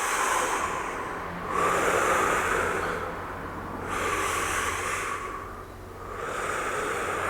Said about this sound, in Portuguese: Lembrando que você tem que respirar profundo e soltar devagar.